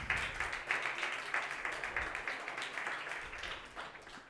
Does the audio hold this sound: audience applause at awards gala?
yes